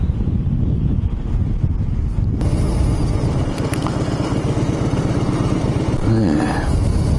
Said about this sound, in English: Bit of a ride on the bike.